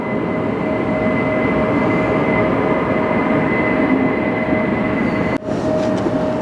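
A heavy jet airliner takes off at reduced thrust at LAX, a loud, steady engine roar with a sustained tonal whine that keeps up without a break and briefly dips near the end. No one speaks.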